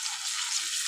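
A spoonful each of turmeric and ginger paste sizzling in a little oil for a cabbage curry, a dense, even hiss that stays steady and close throughout, with no voices.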